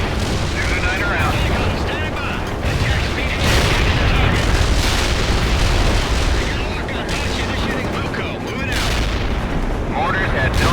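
Mortar strikes landing in the video game World in Conflict, a dense, sustained barrage of loud booming explosions and rumbling blasts that rolls on continuously, with radio-style voice chatter mixed in.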